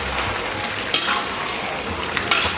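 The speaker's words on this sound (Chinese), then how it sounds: "翻炒收锅" Pork belly and sauerkraut are stir-fried in a wok, making a loud, dense, continuous sizzle. A few sharp scrapes and clanks from the stirring cut through it, heard close up with no talking.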